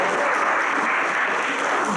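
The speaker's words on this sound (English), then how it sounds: "let's just give everyone a round of applause" Dense, steady applause from an audience at a debate competition, filling the whole moment at close range with no break.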